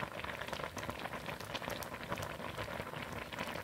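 A pot of spring doenjang soup made with anchovy broth and mugwort, bubbling steadily as it boils, with a dense, even crackle of small bursting bubbles and no talk.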